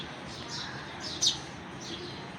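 A weak baby sparrow gives a few faint, thin high chirps as it calls for its mother, spaced over a steady outdoor hiss.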